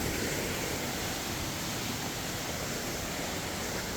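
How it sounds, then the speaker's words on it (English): A small forest river with many little drops and mini waterfalls gives off a steady, even rush of water with no other sounds. "There's lots of little drops on it, so a bunch of little mini waterfalls like that"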